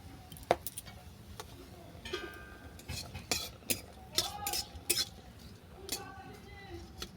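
Dry red chillies and bay leaves fry in white oil in a kadai as a tempering, heard as scattered metallic clinks and scrapes of a spoon against the pan over a faint background sizzle.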